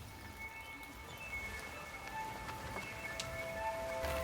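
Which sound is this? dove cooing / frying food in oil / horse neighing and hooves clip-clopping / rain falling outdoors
rain falling outdoors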